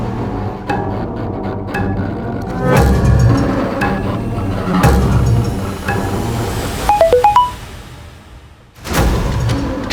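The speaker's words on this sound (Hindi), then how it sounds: "किसका मोबाइल बजा?" A mobile phone ringtone chirps in a quick burst of bright rising tones near the end, set against dramatic background music in a tense indoor scene.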